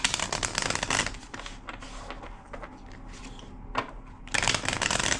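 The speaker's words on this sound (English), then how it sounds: "Two more shuffles." A deck of cards being shuffled by hand, crisp rapid riffling bursts at the start and end with softer sliding and shuffling between, close and fairly quiet with no speech.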